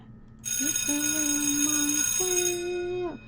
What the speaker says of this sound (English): let me ring the bell on this one. I need to ring a bell here.